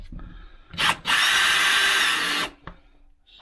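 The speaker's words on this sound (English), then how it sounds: "to start with I'll just be putting the screws in" Power drill driving screws into wooden battens during a narrowboat fitout: a short whir, then a sustained loud drilling burst of about a second and a half, with brief clicks and handling noise either side.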